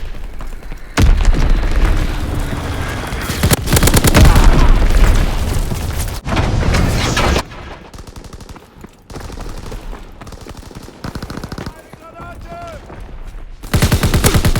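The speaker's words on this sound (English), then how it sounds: "Enemy bomb incoming. Get to cover." Bomb explosions and gunfire from Call of Duty WW2 team deathmatch play on Xbox One X: loud booming blasts and rapid bursts of shots, a quieter stretch of scattered noise, then another loud blast at the end.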